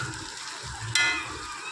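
Chicken pieces sauté in a pan with a steady sizzle and rustling stirring, and a sharper scrape-and-hiss burst partway through as the meat is turned.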